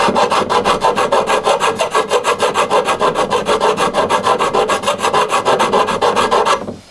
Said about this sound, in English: we'll gently run over the pipe with a file